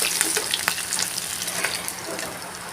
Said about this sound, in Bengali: একইভাবে সমস্ত মাছগুলো আমি এক এক করে ভেজে নেব